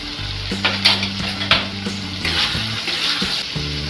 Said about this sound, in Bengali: এবার একসঙ্গে ভেজে নেব মশলাটা ভাজছি এখন